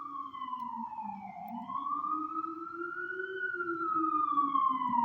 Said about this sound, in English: let this siren go by